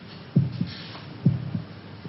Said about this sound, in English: Can you hear your heart beating?